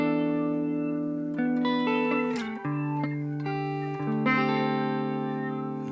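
Electric guitar through a BOSS GT1000 Terra echo, wet and dry mixed, sustained clean chords ringing with lush repeating echoes and a shimmering chorus-like wash, a slow strum or two changing chords midway, close and alone.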